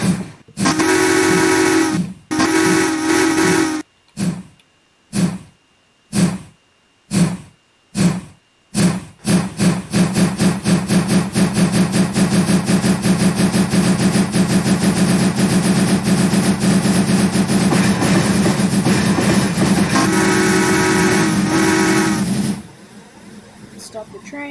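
Minecraft steam train in the game sounding a loud steam whistle in a series of short repeated blasts, followed by a long sustained whistle over rumbling rail noise that cuts off near the end.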